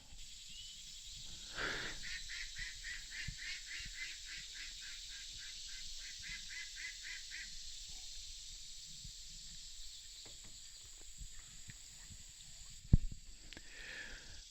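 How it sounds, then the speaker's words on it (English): A rapid series of nasal honking quacks from ducks, fairly close, then quieter scattered calls and a sharp knock near the end. "The ducks were saying good morning."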